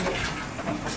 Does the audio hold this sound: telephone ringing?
no